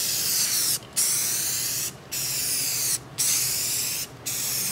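Spray paint hisses from an aerosol can onto a piece outdoors in four steady bursts, each about a second long with short gaps between, loud and close with no talking.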